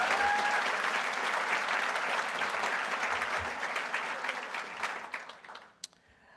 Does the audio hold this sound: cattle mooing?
no